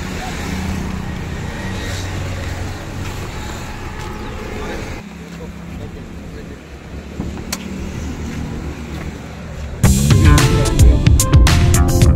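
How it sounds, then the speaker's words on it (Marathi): A car runs with a low engine rumble and road noise while people talk nearby, the sound shifting partway through to a louder, harsher burst toward the end. "गाडी आली आहे मित्रांनो आमची"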